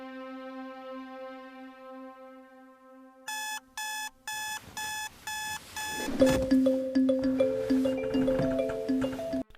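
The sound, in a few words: alarm clock ringing, animated film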